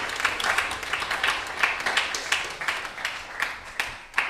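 Temple congregation at ISKCON Dallas gives a round of applause, a lively wash of many hands clapping with sharp individual claps standing out, continuing steadily throughout.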